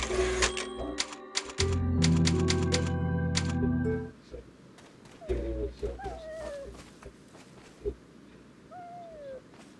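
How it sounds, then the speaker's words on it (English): Typewriter sounds in a video game, a burst of rapid mechanical key strikes and clacks for a few seconds, loud and close, then quieter ambience with scattered faint tones and clicks. "Ah, it's a typewriter."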